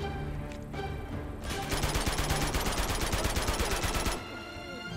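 Rapid automatic gunfire in the video game Uncharted 2: Among Thieves, a sustained burst of loud, evenly spaced shots lasting a few seconds after a quieter stretch, then cutting off abruptly into lingering game ambience.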